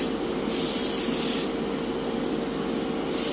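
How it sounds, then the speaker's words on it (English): Mr. Surface Finisher 1500 black primer sprayed from an airbrush or spray gun onto a model 2 1/2 ton cargo truck build, a steady close hiss swelling in two loud bursts with softer spraying between, no talking. "set up the spraying using Mr. Surface Finisher"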